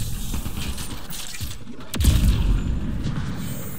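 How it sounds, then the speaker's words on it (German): A game explosion from Mass Effect Andromeda booms about halfway through, a deep loud blast over a continuous rumble of battle noise and gunfire. "Je mehr Explosion, umso besser."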